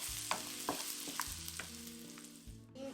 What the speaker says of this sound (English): Now we're adding a bit of our shallots, and we'll leave it to saute.